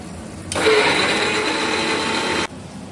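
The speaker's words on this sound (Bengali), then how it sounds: "যে মশলাটা রেডি করলাম সেই মশলাটাকে গ্রাইন্ড করে নিচ্ছি।" An electric mixer grinder grinds a prepared spice masala in a loud, steady, close whir lasting about two seconds, starting and stopping abruptly.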